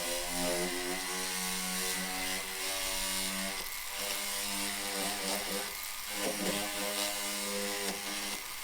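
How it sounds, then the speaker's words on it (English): A white diamond polishing wheel spinning on a flex shaft against a hardened steel burnisher gives a steady, close, high-pitched motor whine with slight wavering, continuous throughout with no speech. "I'm going to take it out of my flex shaft and grab my white diamond polishing wheel"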